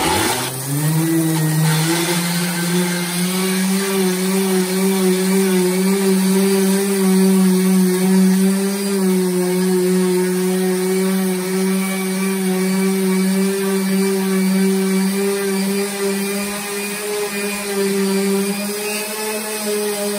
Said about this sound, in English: a drill with various different grinding and cutting bits